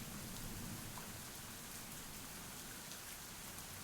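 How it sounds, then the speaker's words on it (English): Heavy rain pours down steadily, a dense unbroken hiss of drops hitting surfaces with no pauses, loud and close throughout. "the rain continues to bear down on us"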